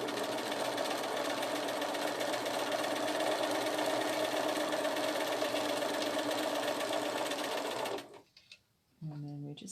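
A sewing machine stitches a fabric seam at a fast, even whirring rhythm, running loud and steady for about eight seconds before stopping abruptly, after which a voice is briefly heard.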